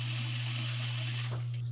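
Cold water running into a pot of pork knuckles, pork feet and beef brisket for Hanoi-style beef pho, a steady close hissing pour over a low hum that stops abruptly near the end.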